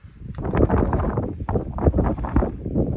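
Wind gusts through a gap at an abandoned farmhouse by a pond, roaring and buffeting loudly and close to the microphone without a break.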